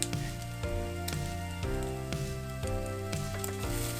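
French toast sizzling in a frying pan, a steady continuous crackle and hiss with faint tonal hum and a few soft thumps, close and even in level throughout.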